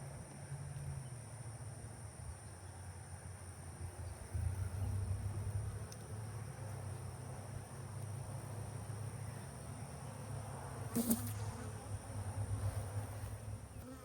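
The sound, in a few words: Southern Italian honey bees buzzing during package installation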